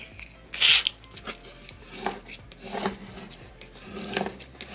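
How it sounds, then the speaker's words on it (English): A plastic scraper tool rubs across a vinyl sheet for a Cricut Joy craft project, giving faint, close scraping strokes in an irregular rhythm, with one brighter squeak near the start. "So I'm just gonna do a little scraper tool action on this."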